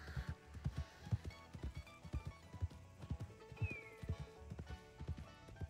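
Hooves of a horse clip-clop in a steady, fairly close rhythm in a Red Dead Redemption roleplay game, with a brief whinny and game ambience behind them.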